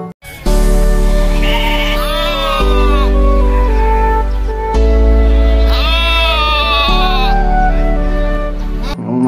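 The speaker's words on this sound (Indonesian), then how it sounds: "Domba." In the video game Jurassic World Evolution 2, sheep give long, loud, wavering bleats, several of them overlapping in steady repeated cries over a constant low game drone.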